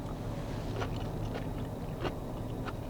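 Someone bites and chews a plate-lunch beef and broccoli that still has some crunch: faint, close crunches at irregular intervals under a steady low background hum, with no talking.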